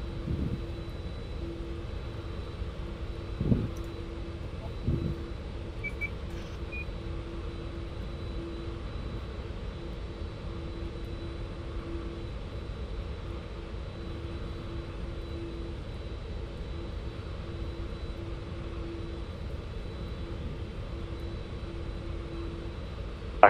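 An airliner in the Roblox Flightline game taxis toward the runway, a steady, low engine drone with a faint repeating hum and a couple of brief knocks, heard alone.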